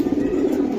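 Giribaz pigeons coo in a loft, a dense low murmur from several birds held close and steady throughout, with no voices.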